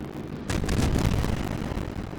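Tank cannon fired in an online ranked battle on the Dallas map, a single heavy boom that bursts in just under half a second in and rolls off into a long rumbling tail.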